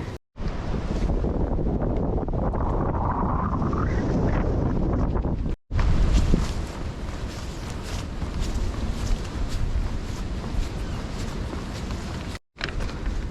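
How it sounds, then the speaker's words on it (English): Strong wind buffets the microphone in a steady, loud roar that continues for several seconds with brief dropouts and no talking. "It's very windy"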